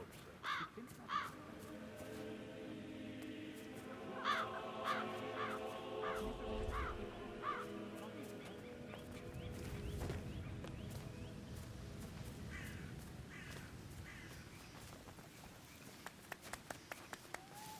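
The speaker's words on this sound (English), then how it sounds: "Damn birds." Several crows caw in the Hitman 3 game world, a series of sharp repeated calls over a steady ambient bed with rustling and low rumbles, no talk.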